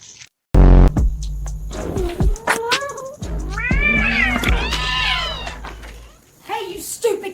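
A cat meows loudly and repeatedly in drawn-out wailing calls, with a sharp thump at the start and someone shouting over it.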